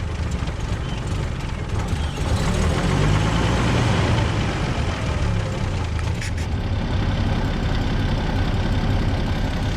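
A pre-war Rolls-Royce car engine with a three-brush charging system runs steadily at idle, giving a close, continuous low rumble with an even, unbroken mechanical churn throughout.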